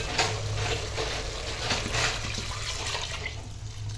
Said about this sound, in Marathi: तर आता यामध्ये गरम पाणी घालूया आणि शिजवत घेऊया